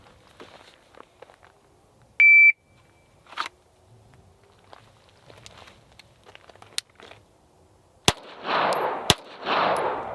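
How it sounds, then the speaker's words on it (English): A brief shot timer buzzer tone, then two loud, sharp shots from a Staccato XC pistol about a second apart, with faint shuffling and rustling around them. "Put the dot dead center and fire off 2 rounds, okay? On the buzzer."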